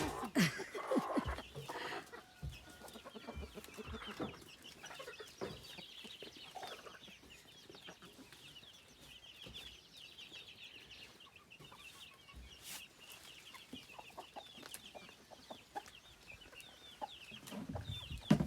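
Chickens clucking softly nearby, scattered calls over quiet background rustle, with a few louder clucks near the start and end.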